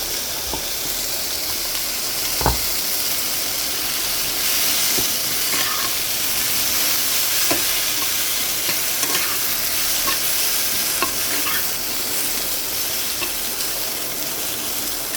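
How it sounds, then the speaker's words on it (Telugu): Bitter gourd curry frying in a pan, giving a continuous close sizzle with a hissing, steamy edge and occasional stirring clicks and spatters over fifteen seconds. "ఇప్పుడు ఇది వేగుతూ ఉంటుంది"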